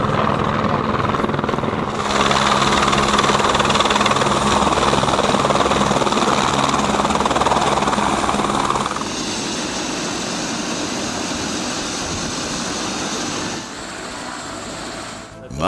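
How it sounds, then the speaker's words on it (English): Helicopter flight over the Mendenhall Glacier near Juneau, heard from inside the cabin: a loud, steady rotor and engine roar throughout, with the tone shifting partway through. "Marjorie was able to make a flight to the Mendenhall Glacier too, using the remarkable disabled person boarding device made by the helicopter crew."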